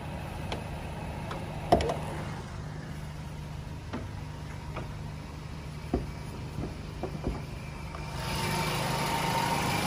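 A 2009 Mazda 3 with a 2.0-litre engine idles steadily in its open engine bay, a low continuous hum with a few faint clicks and knocks heard close up, no talking.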